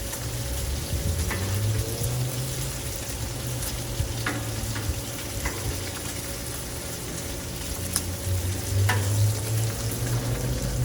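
Bacon strips frying on a Blackstone flat-top griddle, a steady close crackling sizzle with small pops running continuously throughout.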